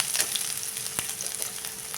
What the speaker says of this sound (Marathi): आता टाकूया त्यात हे किसलेलं आलं